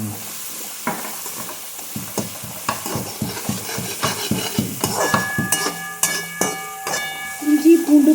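A spoon scrapes and stirs brinjal gravy with turmeric in a pan, giving a run of rhythmic clanking strokes over a soft sizzle and hiss that grows louder toward the end.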